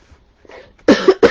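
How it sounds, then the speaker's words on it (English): Two or three harsh, close coughs from one person in quick succession after a short breathy lead-in, loud and abrupt against near silence. "I'm sorry that I'm coughing."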